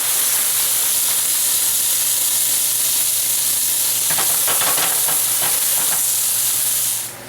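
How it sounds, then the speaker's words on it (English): T-bone steak sizzling in a pan: a loud, continuous bright sizzle and hiss with a low steady hum beneath, a brief flurry of spattering pops midway, and the sizzle fading out at the very end. "how do you cook a T-bone steak in a pan?"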